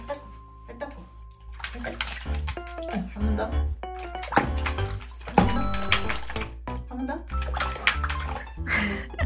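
Running water splashes steadily while a dog's feet are washed indoors, with voices talking over the flow and occasional clatter nearby.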